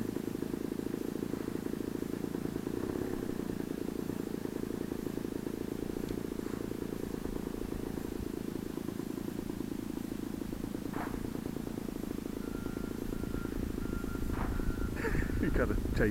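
A cat purrs steadily and close up, a low continuous rumble that runs through the whole stretch, with people talking over it now and then.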